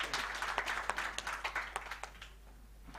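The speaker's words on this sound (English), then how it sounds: "Let's give them another round of applause." An audience at a national dialogue on democratic governance in Uganda gives a panel a round of applause. Distinct claps ring out at moderate level, then taper off over the last second.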